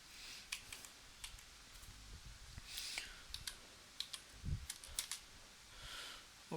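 Computer keyboard typing comes through as scattered light clicks and short bursts of keystrokes, close and fairly quiet, with no talking.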